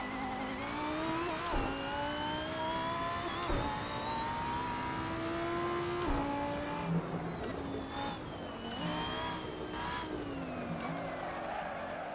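Lamborghini Huracan Performante engine in the Assetto Corsa racing game, a loud sustained revving roar rising and falling through repeated gear shifts, with faint tire squeal, continuous across the clip without talk.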